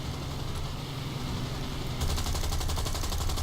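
Rapid machine-gun fire from a Hawker Hurricane fighter plane in a flight video game, a continuous rattling burst over steady engine drone that grows louder and denser partway through.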